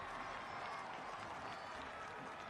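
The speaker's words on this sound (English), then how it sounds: "Danny Barrera gets a good round of applause" A soccer stadium crowd at a Louisville City FC versus Hartford Athletic match gives a steady round of applause, dense continuous clapping mixed with crowd noise, heard from a distance and fairly faint.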